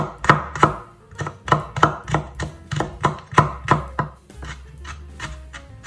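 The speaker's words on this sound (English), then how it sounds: "1 clove of garlic. Mince it." Knife mincing a garlic clove on a cutting board, a run of quick, crisp chops at an uneven rhythm, close and distinct, alone with no talking.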